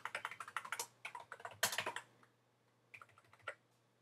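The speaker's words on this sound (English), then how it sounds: "I'm screwing up my typing here" Fingers clatter over a computer keyboard in quick, uneven runs of key taps, close and fairly quiet, pausing briefly before a few final strokes.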